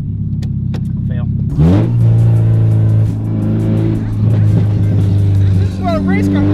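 A Mazda Miata's loud engine idles, then revs up sharply and keeps roaring steadily, with voices briefly audible near the start and end.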